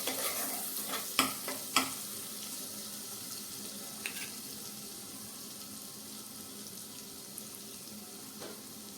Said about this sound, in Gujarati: ટામેટું એડ કર્યા પછી હવે આપણે ફરીથી ચલાવી લઈએ